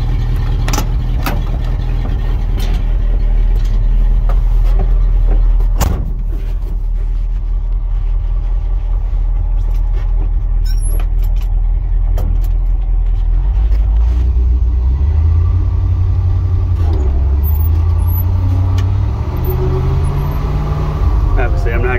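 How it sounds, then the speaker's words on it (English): A 1982 International Harvester 1824 flatbed truck runs on a South Dakota evening, its engine rumbling steadily up close, with the pitch rising toward the end and a few clicks and knocks over it. "truck runs, drives"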